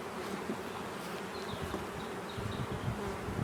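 Honeybees swarm around an opened beehive during hive work on a dairy farm, a dense continuous buzzing drone heard close up and steady throughout, with no voices.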